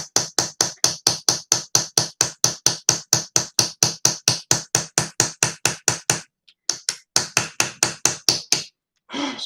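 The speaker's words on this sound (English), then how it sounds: "driving a chisel in engraving" Steady, evenly spaced hammer blows drive a chisel in horimono engraving, each a sharp metallic tap, close and clear, running as a long regular series before a brief pause and a few more strikes.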